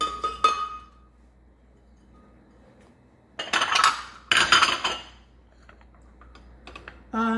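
Green peas tipped into a bowl with asparagus and avocado for vegetable muffins, producing a few close bursts of light rattling and clinking against the bowl separated by quiet pauses.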